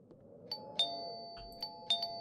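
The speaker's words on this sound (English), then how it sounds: "ring the doorbell to the house" A doorbell at a wooden house rings out in bright, clear ding-dong chimes, several separate tones ringing alone with short decaying tails.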